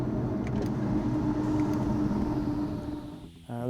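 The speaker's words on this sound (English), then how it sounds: "The Mercedes SL65 AMG Black Series has a bi-turbo V12 with 670 horsepower." A Mercedes SL65 AMG Black Series with a 670-horsepower bi-turbo V12 drones steadily in a loud, continuous engine rumble, then dips briefly and surges back up near the end.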